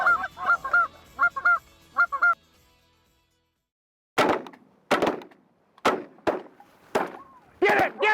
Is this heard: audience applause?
no